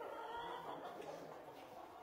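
Fighting roosters in a gamecock barn give a low, continuous clucking and murmuring, a dense steady chorus of fowl close by with no clear crow standing out.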